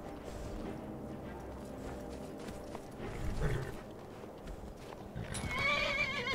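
A horse whinnies loudly near the end of a Skyrim Special Edition gameplay clip, a rising high-pitched neigh over a busy backdrop of game music and hoofbeat-like clatter.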